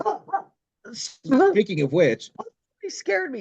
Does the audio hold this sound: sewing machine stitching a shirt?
no